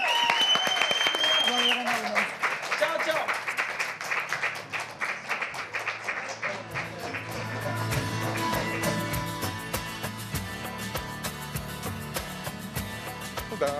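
An audience applauds performers at a live music show, a full burst of clapping that starts strong, dips briefly, then swells again, with music and a voice mixed in underneath.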